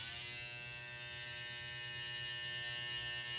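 Electric hair trimmer running while cleaning up neck hair during a self-cut buzz cut with a #3 guard, a steady close mains-pitched hum and buzz that continues unbroken, with no talking.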